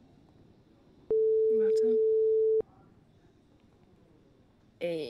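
Single long steady phone tone during a call that goes unanswered, loud and flat for about a second and a half, with a voice speaking over it and more talk afterward.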